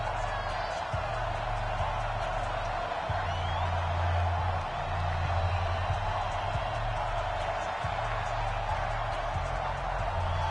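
Crowd noise in an EA Sports NFL video game, New England Patriots against the Cleveland Browns at a sold-out stadium: a steady, distant roar of cheering with a low repeating musical hum beneath it.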